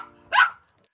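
A cartoon dog gives a single short bark in a Cinderella princess animation, a brief, close yip that is followed by quiet high chiming tones.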